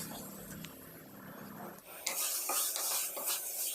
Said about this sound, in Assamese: দি আকৌ ভালকৈ লৰাই দিছোঁ, গোটেইখিনি যাতে ধুনীয়াকৈ মিলি যায়।